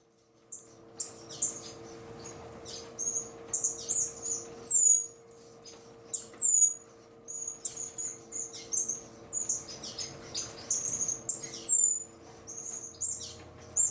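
Many high, thin chirps and peeps come in quick, irregular bursts, like a nest of young birds calling, with a faint low hum underneath.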